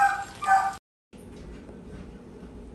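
A couple of quick dog barks and yips, then a brief cut to silence followed by muffled background noise.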